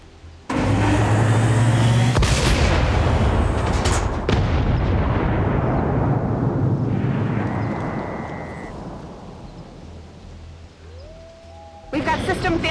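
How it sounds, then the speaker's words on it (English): The Chosen's main cannon fires on the Avenger in XCOM 2, a huge booming blast followed by a long rumbling roar and crackle that slowly fades, then a fresh loud burst at the end. "we now get to see that main cannon in action for the very first time"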